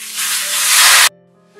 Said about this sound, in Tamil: இப்ப புளித்தண்ணி ஊத்தியாச்சுங்க.